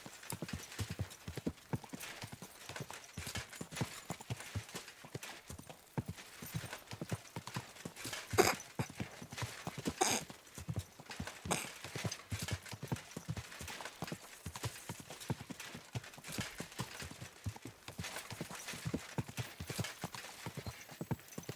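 Rapid, steady hoofbeats clip-clop throughout in the video game Kingdom Come: Deliverance 2, a horse moving at a brisk trot or canter, with a faint whinny in the mix.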